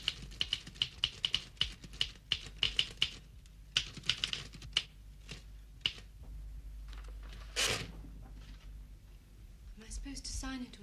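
A manual typewriter clacks in a steady run of sharp, close keystrokes in a period drama setting, pausing briefly, with a bell-like ding and carriage movement later and people speaking over parts of it.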